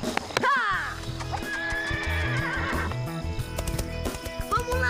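A horse neighs loudly with a long whinny, followed by clip-clopping hooves and background music.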